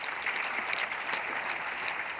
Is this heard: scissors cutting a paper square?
no